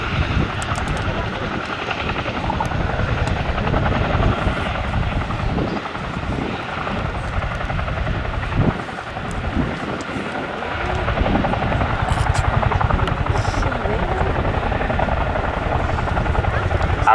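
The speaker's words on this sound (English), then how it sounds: "will get to see a Chinook party piece, one of the only helicopters in the world that can reverse on 2 wheels" A Royal Air Force Boeing Chinook twin-rotor helicopter displaying at an air show, its loud, steady rotor thump and engine roar filling the whole stretch with a continuous broadband drone.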